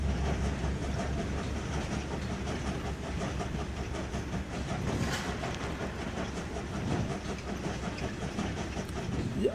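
A train rolls along the rails in the WWII-era strategy game Svoboda 1945: Liberation, a steady low rumble with faint clickety-clack running continuously and evenly throughout, with no talk over it.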